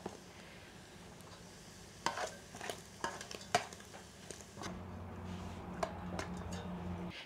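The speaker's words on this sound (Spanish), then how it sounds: "aquí ya nomás las voy a dejar un poquito para que las papitas agarren el sabor del chorizo" Potatoes cooking with chorizo in a clay cazuela give a low steady sizzle, broken by several sharp clinks and scrapes of a utensil stirring against the pot.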